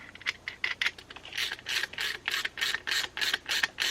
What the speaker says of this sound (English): I put that eyelet on that bolt and then use the nut to lock it down